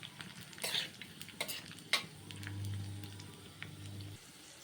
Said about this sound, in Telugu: నెయ్యి అయితే కాగిపోయింది. ఇప్పుడు జీడిపప్పు, ద్రాక్ష అయితే వేసుకునేసాను.